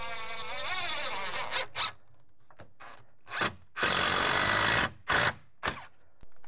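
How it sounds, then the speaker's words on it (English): A power drill drives 3-inch construction screws into wood during a stairwell storage renovation, running in several short, loud bursts of whirring separated by pauses, with a longer sustained run in the middle. "Then I'm going to attach this with some 3-inch construction screws."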